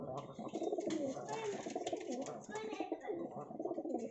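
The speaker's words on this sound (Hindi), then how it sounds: "ये चौथा कबूतर है मेरे हाथ में" A purebred high-flying pigeon held in the hand coos continuously in soft, close, rolling calls, with a faint voice in the background.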